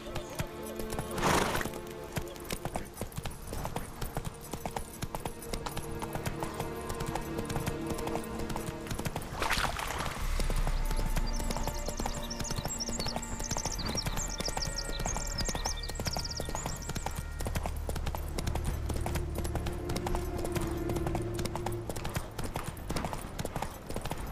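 Steady clip-clop of Geralt's horse Roach galloping in The Witcher 3, a continuous rhythmic hoofbeat running throughout, with an occasional whinny and faint background game sound.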